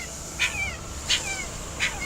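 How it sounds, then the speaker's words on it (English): A distressed puppy trapped in a car cries in three short high whimpers, evenly spaced over a steady hiss of background noise. "it's a puppy, and I can't see it, but it's crying."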